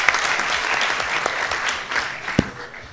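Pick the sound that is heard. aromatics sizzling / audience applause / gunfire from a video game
audience applause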